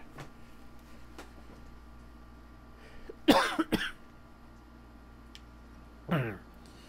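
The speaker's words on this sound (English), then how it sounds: "Still coughing up gunk." A person coughing up phlegm while still recovering from an illness: a quiet stretch, then a loud cluster of wet coughs near the middle and one more cough burst near the end, close to the mic with no talking.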